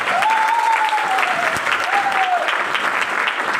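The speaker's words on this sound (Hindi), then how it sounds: "मैं पहली बार देख रहा हूं कि अपने स्वागत में कोई इतनी कम तालियां बजा रहा है।" Dense audience clapping at a success-training seminar welcome, continuous and loud throughout, with a sustained tonal whistle or voice gliding over the clapping.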